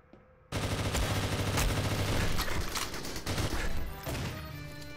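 Rapid automatic gunfire in the GoldenEye: Source multiplayer shooter, a dense loud burst of shots that kicks in suddenly and rattles continuously for several seconds, close and with no voices.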